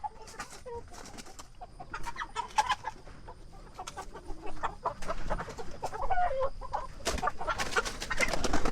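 Kosher King chickens, 15-week-old meat birds on a farm, cluck and chatter in a flock: a steady stream of short, overlapping calls, nearby and moderately loud, with a little scratchy background noise.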